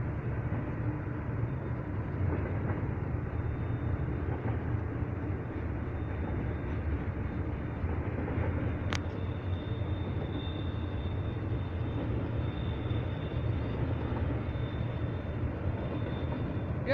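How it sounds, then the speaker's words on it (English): Train rolling past on a railway line, a steady low rumble of wheels and cars held at close range, with a faint high whine running through it. "There's our first train of the day."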